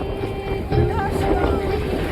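Wind blowing across Pangong Lake in Ladakh, a steady low rushing buffet against the microphone with a slight surge partway through, filling the whole stretch.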